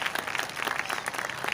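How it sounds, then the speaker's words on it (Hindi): A church congregation applauds at a Catholic Mass and pilgrimage in Sargodha, giving a short burst of dense, even clapping from many hands. "तो भरपूर तालियां इनके लिए।"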